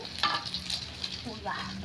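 Eggs fry in a pan with a quiet, crackling sizzle and small popping spurts, heard close and continuous for a couple of seconds.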